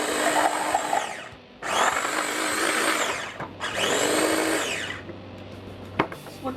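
A blender grinds chimichurri sauce in three loud, whirring bursts of a few seconds each, separated by brief pauses, with a faint knock near the end.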